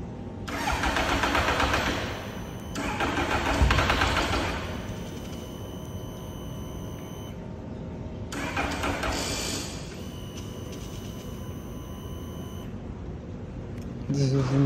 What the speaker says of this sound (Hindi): काफ़ी हैवी बाइक है यार ये, तो स्टार्ट भी नहीं हो रहा है